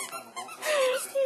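A dog's squeaky toy gives a thin, drawn-out squeak followed by a second shorter one while the dog bites and worries at it nearby, with soft rustling underneath.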